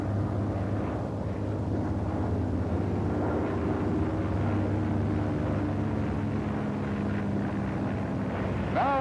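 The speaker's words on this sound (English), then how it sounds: "The F6F has very little tendency to swerve and will fly yourself off at a speed of" A Grumman F6F Hellcat fighter from World War II takes off, its engine a loud steady drone with a wind-blown rumble that holds constant throughout.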